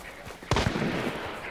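A single sharp gunshot cracks out in the video game Hunt: Showdown, loud and abrupt, then trails off into a rumbling echo over a low background hum.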